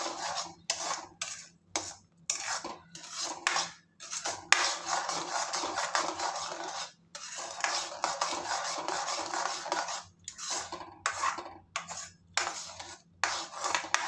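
A spoon scrapes and stirs sugar into banana halwa in a pan, in repeated rhythmic strokes separated by short pauses, close and steady.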